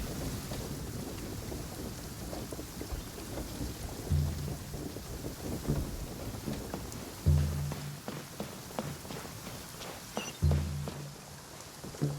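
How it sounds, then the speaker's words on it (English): Heavy rain in the Genshin Impact video game, a steady dense patter of rain with a few deep low rumbles and thuds rising through it, no voices. "This heavy rain must be quite an inconvenience for you."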